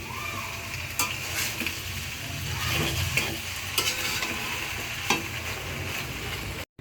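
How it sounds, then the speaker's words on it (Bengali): Pasta gets stirred together with vegetables in a hot pan, a continuous sizzle broken by repeated scraping and clacking strokes of the spoon, ending in an abrupt cut. "আস্তে আস্তে সবজিগুলোর সাথে মিক্সড করে দিতে হবে"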